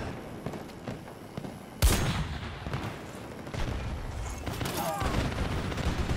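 Battlefield 2042 gameplay has a sudden loud blast followed by rapid distant and mid-range gunfire, with sporadic shots and rumbling explosions continuing steadily throughout.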